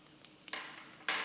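Onions and garlic go into hot oil, setting off two quick bursts of close sizzling over a faint background hiss; no one speaks.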